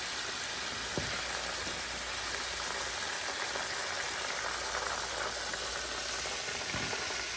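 Salt and pepper shrimp sizzle steadily in a hot pan, a continuous soft hiss and crackle with faint pops throughout.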